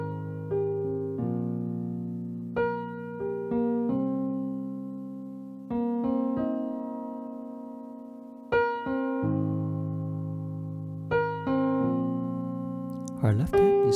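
Piano playing a song's melody over chords, clear struck notes in phrases with pauses between, close and solo, ending with a brief noisy thump.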